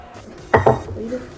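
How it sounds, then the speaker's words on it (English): Two quick clinks of a utensil against a container as borax solution is stirred into a glue mixture for a homemade bouncy ball, close and short, followed by faint soft scraping. "And then we stir them together."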